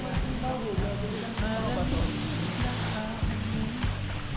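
San Agustin Falls gives off a steady rushing roar of falling water, with a low rumbling layer and faint intermittent voices underneath.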